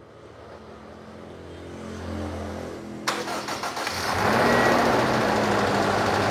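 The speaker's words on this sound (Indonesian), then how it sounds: "dari mesin sudah bisa hidup" A freshly assembled Toyota Innova petrol engine cranks with a brief starter chatter, catches and settles into a steady, fairly loud idle, with no talking.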